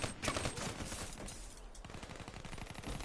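Rapid automatic gunfire from the video game Call of Duty rattles in dense, continuous bursts of overlapping shots throughout the clip, with no voices over it.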